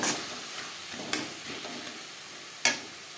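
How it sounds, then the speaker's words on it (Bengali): Onions, ginger-garlic paste and green chilli sizzle softly in a pan for Moghlai paratha while a utensil stirs them, with a few sharp scrapes against the pan. "কাঁচা গন্ধ যাওয়া পর্যন্ত নাড়াচাড়া করে নেব"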